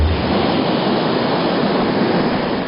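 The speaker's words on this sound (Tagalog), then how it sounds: "Nag-iingay na ang malalakas na alon." Loud surf crashes continuously as Typhoon Lawin approaches Batanes in the Philippines, a dense, steady roar of breaking waves with no voices over it.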